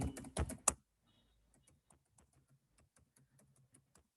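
A computer keyboard is typed on, with a few loud knocks at first, then a long run of faint, evenly spaced key taps in a quiet room.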